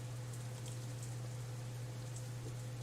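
Steady rain in the visual novel Katawa Shoujo, a constant soft wash of falling drops under a low continuous hum, even and unbroken throughout.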